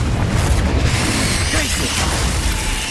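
Spells burst in a Harry Potter video game battle, loud booming and crackling impacts piling up over a rumbling low end, with speech faintly mixed in.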